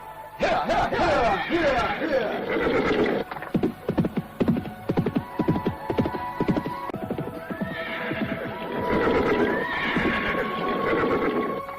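A horse neighs and whinnies several times while its hooves clip-clop in a steady, uneven run of close hoofbeats, over a low background hum, with no speech.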